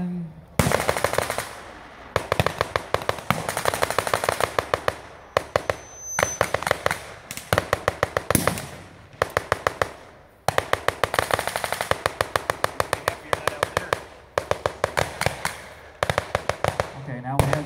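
Gunfire at a WW2 reenactment, with rapid bursts of machine-gun fire and single cracking shots from small field cannons, loud and close in repeated clusters separated by short pauses.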